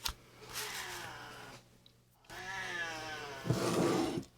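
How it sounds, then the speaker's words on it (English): A house cat meows in long, drawn-out, complaining wails, three of them with short pauses between, close and fairly loud, with no talk over them. "Give that kitty some love."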